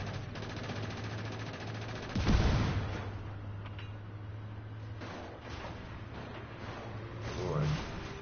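Tank cannon fire in Just Cause 3, a heavy boom with a dense burst at about two seconds over steady engine rumble and game noise, with a second burst near the end.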